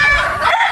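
A rooster crows loudly and close by on a game farm in Batangas, mixed with chicken clucking, in one brief burst.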